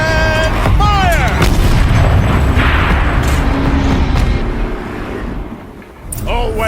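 A turret firing in Horizon Zero Dawn, a heavy booming blast that rumbles and rolls on for several seconds like artillery, loud and close, easing off before a fresh burst at the end.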